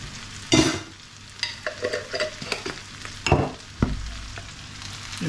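Garlic puree sizzling in a hot pan while being stirred, with scraping strokes and sharp clanks of a utensil against the pan over a steady frying hiss.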